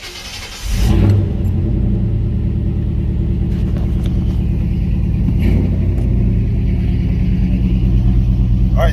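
A car fitted with a 700R4 transmission and Corvette servo is cranked and fires into a loud, steady idle, a brief starter whir followed by continuous rumbling engine drone, close up with no talk.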